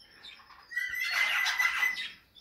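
A large show-type budgerigar parakeet lets out a rasping, chattering squawk, close and moderately loud, with no talking over it.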